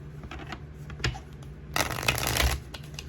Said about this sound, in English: So if I keep shuffling, it's gonna keep messing up.